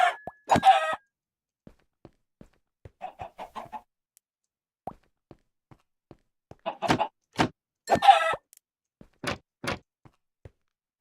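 Blocky game chickens in Minecraft cluck in short scattered bursts, a few calls close together at the start and a denser cluster later, with quiet clicks and pauses between.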